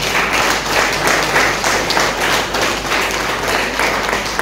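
Sustained audience applause at a community event in a hall, dense and fairly close, steady throughout with no talk over it.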